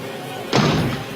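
A single heavy thud slams against a door, like an axe blow breaking through wood in a horror film scene, short and fairly loud over a low hum.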